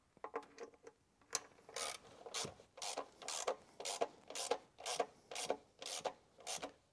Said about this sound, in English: Might just actually be easier to run these in with a ratchet until they're down a bit tighter than that.